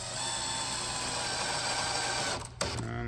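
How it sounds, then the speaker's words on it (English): A cordless drill steadily driving a screw at a low setting while assembling a Retro Active arcade console kit, a continuous whirring hum that dips briefly near the end before resuming. "keep your drill at a lower setting"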